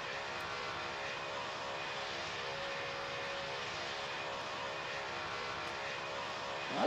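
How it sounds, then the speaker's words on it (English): Boeing 747 jet airliner in a flight simulator game, a steady broad engine roar that holds at an even level throughout with no talking, swelling slightly at the very end. "Why is there 747 coming?"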